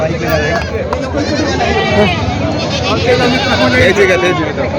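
Goats bleating at the busy Parbhani Khandoba goat market, several wavering bleats close by amid crowd babble, with someone talking over them almost continuously.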